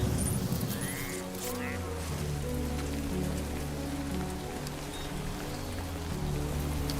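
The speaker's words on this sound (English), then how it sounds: "Great. Rain. Gotta move." Steady rain hisses down in the video game Death Stranding 2, a dense, even wash of drops that runs the whole length beneath a low drone and brief game tones.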